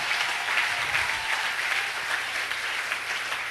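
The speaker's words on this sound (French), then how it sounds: "tu peux l'acclamer bien" A church congregation applauding during a worship service, with steady, dense clapping that is loud and close and goes on without a break throughout.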